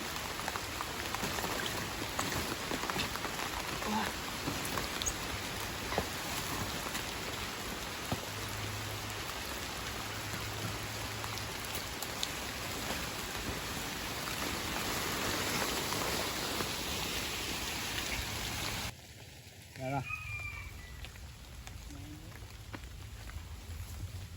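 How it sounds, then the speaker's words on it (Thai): Heavy rain pours down on a forest at night, a dense, steady hiss that stays loud and close for most of the stretch before abruptly thinning near the end, where a brief tonal sound cuts through. "ฝนตกหนักแล้ว"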